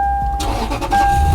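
A Lexus GX470's 4.7-litre engine cranks briefly and catches, then settles into a close, steady idle.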